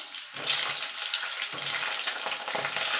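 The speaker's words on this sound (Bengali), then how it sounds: "এবার পটলগুলো আমি ভাজার জন্য তেলে ছেড়ে দেবো।" Pointed gourd pieces fry in hot oil, a dense continuous sizzle and crackle that stays loud and close throughout, with occasional stirring.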